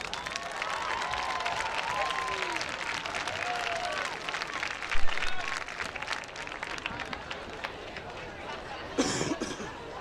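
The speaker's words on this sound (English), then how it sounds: "a round of applause for all their hard work and dedication" A stadium crowd at a varsity high school football game applauds seniors, a broad steady wash of clapping with scattered coughs, chatter and a brief whoop around the middle and near the end.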